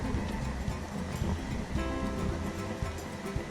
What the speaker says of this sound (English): And there's a river.